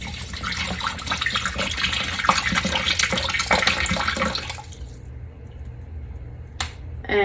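Water pours steadily into a 5-gallon caramel cooker while making red velvet popcorn, a continuous splashing rush that stops abruptly near the end, followed by a short clatter.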